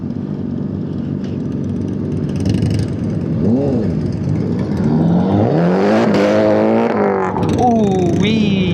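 A Nissan 240 at a stunt lot with drift track and drag strip revs and idles nearby, the engine note rising and falling through a few throttle blips under a steady background of other engines and crowd.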